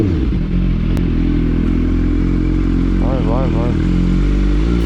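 Motorcycle riding captured on a GoPro HERO13 helmet camera, a loud steady engine drone with wind rumble that stays constant throughout, with a brief rising-falling whine near the end.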